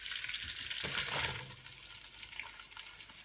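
Onions hitting hot olive oil and butter in a pot for a Trinidad stew beef, a loud sizzle swelling near the start and then settling into a steady, close frying hiss.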